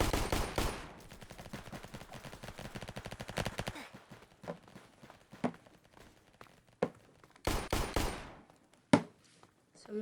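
Video game minigun fire rips out in a dense, rapid burst at the start, then scattered single shots and thumps, with another sharp burst near the end and a lone loud crack after it.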